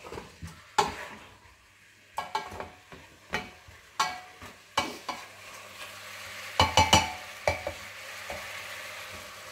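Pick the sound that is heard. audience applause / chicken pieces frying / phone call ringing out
chicken pieces frying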